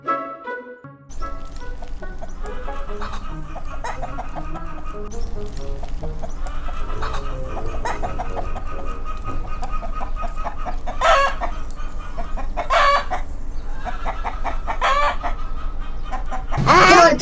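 Chickens cluck steadily while a rooster crows loudly several times near the end, close and prominent throughout with no talk over it.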